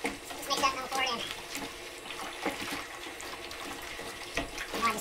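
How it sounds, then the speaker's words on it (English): Water poured into a bucket for soaking a hide, a close splashing, gurgling flow with bursts and sloshing, heard under someone talking. "Just a couple more gallons of water."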